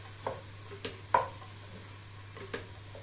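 Poha with peanuts, tomato, peas and carrot being sautéed for kande poha, a faint low sizzle broken by a few soft scraping stirs of a spoon in the pan, over a quiet steady hum.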